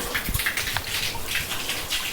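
Water pours steadily from the Nandi spout at the Antharagange temple, a constant close splashing gush that fills the whole moment without speech.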